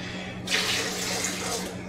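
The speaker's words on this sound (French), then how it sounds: "dans le blender, mélanger avec de l'eau de source, pas de l'eau du robinet" Spring water poured into a blender jar holding cashews for making cashew cheese, a steady splashing pour that starts abruptly and runs close and continuous with no talk.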